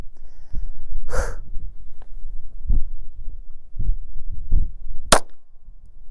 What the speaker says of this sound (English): Now if you want, you can shoot again and it'll keep firing until you're done.